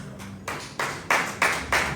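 Audience applause at a social media week event in Uyo, Akwa Ibom, rising in five short bursts of clapping after a quiet start, fairly close and moderately loud.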